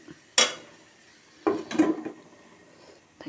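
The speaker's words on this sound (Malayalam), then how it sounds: "തക്കാളി ഒന്ന് വേവാൻ വേണ്ടിയിട്ട് അടച്ച് വയ്ക്കാം." A metal lid set onto a pot of cooking tomatoes for rasam, a sharp clank followed by a cluster of rattling metallic knocks as it settles, then quiet with a faint tap at the end.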